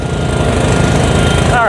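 Lawn mower engine running at full throttle, a loud, steady mechanical drone held for the whole stretch with no pauses.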